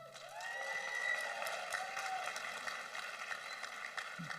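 An audience at a Northern California graduation commencement ceremony claps steadily in sustained applause, moderately distant, with a faint tone lingering at the start.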